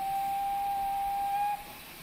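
A steam locomotive whistle sounds in a train simulator set on a 1950s Riviera line with a heavy freight, giving one steady, loud, sustained tone for about a second and a half before cutting off, with low rumble underneath.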